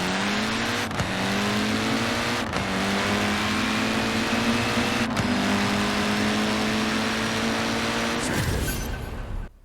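A Fiat X1/9 drag car on drift suspension races in Forza Horizon 4, its engine revving hard and climbing through several gear shifts with sharp breaks between them, loud and close before cutting off abruptly.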